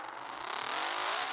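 A video-game motorcycle engine revs steadily as the bike rides into a school, a bright whirring drone that swells slightly in loudness over its short length, with no talk.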